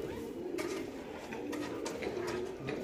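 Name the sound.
Lalchina pigeons cooing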